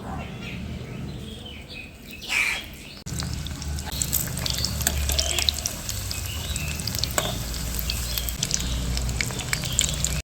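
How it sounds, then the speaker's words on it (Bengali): Chicken and cabbage pakoras fry in hot oil with a steady close sizzle and bubbling, a brief stir or clatter near the start, and no voices. "এবার আমি তেলটাকে হিট করে একটু ভেজে নেবো"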